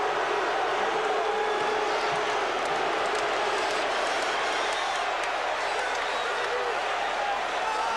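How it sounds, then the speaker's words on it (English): A basketball arena crowd at a 1992 UCLA at USC college game roars and cheers in a dense, sustained wall of noise throughout. "With the crowd at a fever pitch, with George Raveling jumping up and down"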